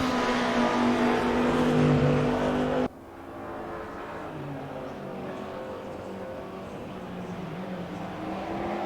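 Race cars circulate at Hockenheim, their engines droning in a loud continuous whine with shifting pitch. The sound cuts abruptly to a quieter, more distant engine buzz partway through, then builds again.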